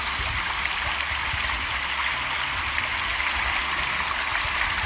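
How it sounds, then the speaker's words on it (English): The River Char rushing powerfully through a deep channel it has dug for itself, a steady, full-bodied roar of flowing water, close and continuous with no voices. "It's quite powerful, that water."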